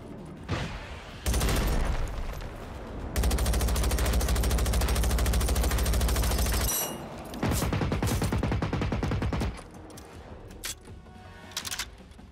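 Sustained automatic gunfire in the video game Generation Zero, with long, loud continuous bursts separated by brief pauses and a few scattered single shots near the end.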